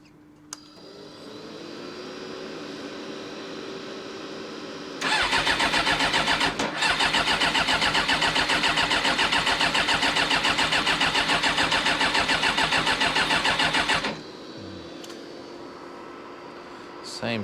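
A 1996 Suzuki GSX-R 750 SRAD track motorcycle with a hot start fault cranks and fires, running loudly with a rapid rough pulse for about nine seconds before cutting out, with quiet background hum before and after.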